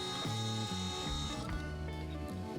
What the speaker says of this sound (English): Drilling out the rivet.